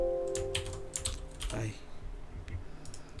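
A few crisp computer keyboard key presses, including the Alt key tapped twice, scattered clicks over a quiet room background with faint talk.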